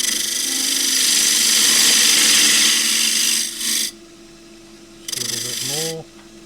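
A 3/4 inch skew chisel cuts the outside of a punky box elder box on a wood lathe, giving a steady loud hiss and whir that drops off, then returns for a short second pass.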